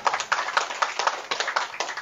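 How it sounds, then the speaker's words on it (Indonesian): An audience claps in a quick, steady rhythm at a Nahdlatul Ulama religious lecture and ruqyah gathering in Indonesia. The claps are close, fairly loud, and fill the moment with no talking. "Tepuk tangan dulu."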